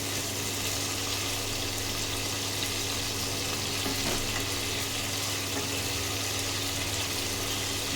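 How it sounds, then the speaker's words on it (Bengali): Prawns fry in a pan for a jackfruit-seed curry, giving a steady, close, even sizzle of hot oil with a light crackle that holds throughout without talk. "দেখো, এইভাবে মাছটা ভেজে নিলাম, এর থেকে বেশি ভাজতে হবে না"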